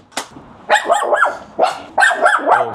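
Dogs bark at a dog daycare kindergarten: four loud, close bursts of barking with growly, yipping tones, separated by brief pauses.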